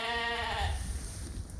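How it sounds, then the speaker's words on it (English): A sheep bleats on a farm during livestock judging, a clear, wavering bleat in the first half-second that trails off into steady outdoor background noise. "that's a real nice sheep right there"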